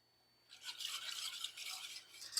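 Milk and water are whisked into eggs for a lemon pudding, a quiet rapid scratchy swishing of a whisk in a bowl that starts after a brief silence and continues briskly and evenly.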